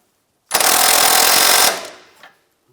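A tool fastening the nut on a sway bar link of a 2011-2014 Hyundai Sonata, one loud buzzing rattle of about a second close to the microphone that then winds down and stops.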